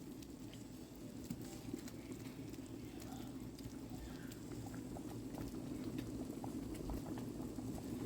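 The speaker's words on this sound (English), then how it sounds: "We're at about 10 minutes of a simmer." Turkey Alfredo sauce simmers in a pan after pan-searing, giving a steady, close bubbling and popping that continues evenly for the whole stretch with no talk over it.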